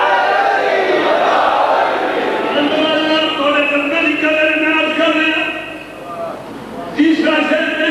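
A large crowd at a religious gathering chants a slogan for Ali in loud, sustained unison, voices rising and falling together with a brief dip before resuming.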